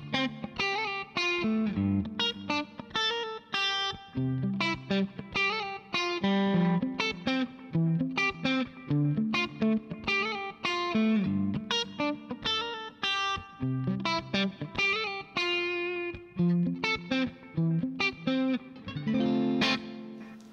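Electric guitar plays a song intro through effects pedals with distortion and chorus, a steady run of loud, ringing picked notes and chords for about twenty seconds, with no voice over it.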